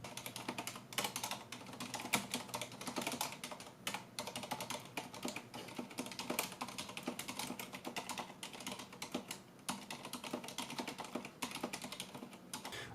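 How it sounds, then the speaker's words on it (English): Rapid, steady typing on a Corsair keyboard fitted with Cherry MX Silent switches, a dense run of soft, muted keystrokes that carries on evenly at close range. "Cherry MX Silents are very similar to MX Reds to me."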